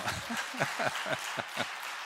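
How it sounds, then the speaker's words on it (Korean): A brief patter of applause from a small church congregation during a Sunday evening service, light and uneven claps for about two seconds. "박수도 좀 치세요"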